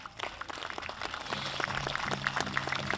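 Audience applause for a quilt maker at a veterans dance special: steady, dense clapping from a crowd that holds at an even level for a few seconds, with some faint tonal sound underneath.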